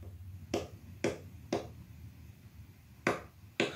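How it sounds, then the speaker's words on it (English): A looped clap sample streamed over a JackTrip server, sharp isolated claps repeating at uneven intervals, about five hits, dry and fairly close over a faint low hum. "I am actually hearing a clap."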